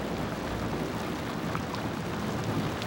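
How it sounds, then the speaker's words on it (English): Heavy summer rain pouring in the desert, a dense steady hiss of downpour close and loud, with a faint low rumble beneath. "Within an hour, 4 inches of rain has fallen."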